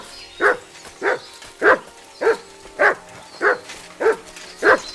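A dog barks in Kingdom Come Deliverance II, eight evenly spaced, moderately loud barks repeating about every half second, close by with no talk over them.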